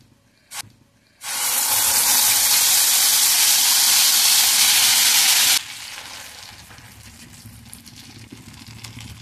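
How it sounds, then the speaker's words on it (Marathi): Mashed banana dropped into hot ghee bursts into a loud, hissing sizzle that holds steady for about four seconds, then drops to a softer frying crackle, heard close with no voices. "त्याला तुपावरती परतून घेऊया."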